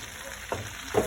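Water splashed into onions frying in hot oil for a fish head curry, producing two short, close sizzling bursts over a low background hiss.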